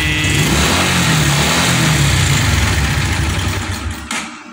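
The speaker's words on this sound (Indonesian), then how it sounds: "saya tarik gas" Fuel-injected Honda motorcycle engine (Blade, Supra 125 or Revo) with its battery disconnected, held at high revs as the throttle is pulled, a steady loud buzzing roar that sits close and then drops off near the end.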